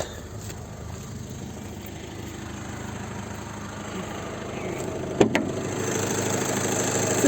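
A warmed-up 2011 VW Touran 2.0 TDI diesel engine idles steadily with a low, even rumble throughout, and a couple of brief clicks sound near the end.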